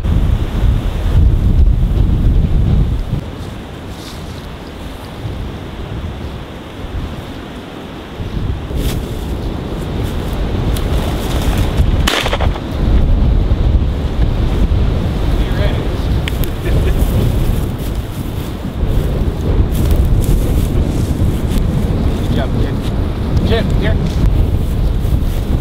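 A strong wind storm roars across open ground during a bird hunt, buffeting the microphone with constant loud rumbling gusts that rise and fall for nearly half a minute, with voices talking now and then underneath.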